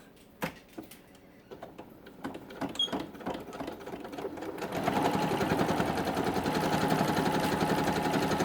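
A sewing machine stitching a quilted journal cover starts after a few scattered handling clicks and taps, then runs in a steady, fast mechanical whir through the second half, fairly quiet and close.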